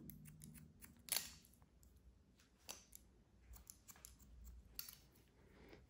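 Scissors trimming hair during a curly pixie haircut, quiet snips and clicks scattered irregularly, faint and close with no voices.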